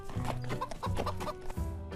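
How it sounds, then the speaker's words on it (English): Chickens cluck repeatedly on a farm where a small horse chases them, a dense run of short clucks close by with no talking. "And he would just chase the chickens."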